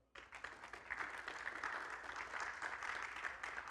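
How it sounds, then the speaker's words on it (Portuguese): A church congregation claps for a man named Alan, a steady, fairly quiet round of applause that starts abruptly and holds evenly throughout, with no voices standing out. "Dá uma salva de palmas para Alan"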